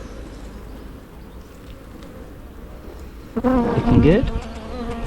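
Honeybees buzzing around an open hive during an inspection, a steady close hum that swells louder near the end as a bee passes near, with a short spoken remark over it.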